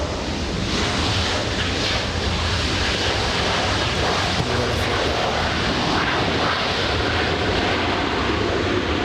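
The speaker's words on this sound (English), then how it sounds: "go for the Delta arrival. Flying in from Orlando, Florida. Nice. A321." Delta Airbus A321 arriving at LAX after a flight from Orlando, a steady broadband engine roar that holds loud and continuous throughout, with wind noise mixed in and no talking.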